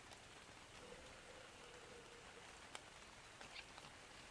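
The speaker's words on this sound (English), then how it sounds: "It's raining." Steady rain falls in the Ark Survival Evolved game world, a dense even hiss of drops on surfaces with a few faint patters standing out; no one talks.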